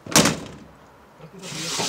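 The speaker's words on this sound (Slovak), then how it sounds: "takto sa dá zavrieť dvere" The door of a Multicar M25 utility vehicle is pulled shut with one solid, close slam and a brief rattle, followed by quieter handling noise.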